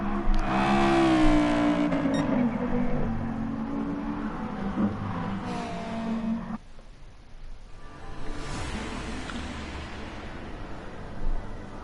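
Race cars in the Rallycross GT game at Tsukuba Circuit accelerate with loud, rising engine revs and gear changes, then drop out briefly before more engine roar and whine build again.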